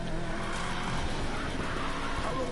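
A car drifts in the Need for Speed Payback racing game, its engine roaring steadily with a smeared tire-squeal hiss across a short stretch at moderate volume, no voices.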